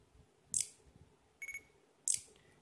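Camera shutter on an HTC One M9 Plus phone: three short, bright synthetic clicks spaced about a second apart, crisp and close against a quiet room.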